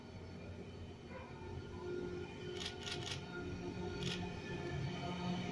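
A Sydney Tangara electric train moving at a station platform, a low steady rumble and hum building gradually, with a few brief sharp squeals or clicks partway through, heard at moderate distance.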